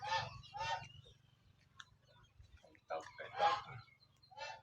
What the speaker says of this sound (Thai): ไก่ตอกนะคะ เพื่อนๆไม่ใช่ไก่งวง